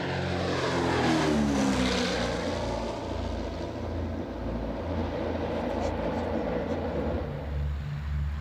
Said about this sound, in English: Now I think we can see Freddie Clarkson do one last fast pass.